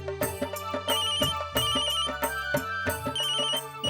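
A mobile phone ringtone plays a repeating melodic tune, loud and close, with rhythmic chime-like notes over a steady low backing and no voices.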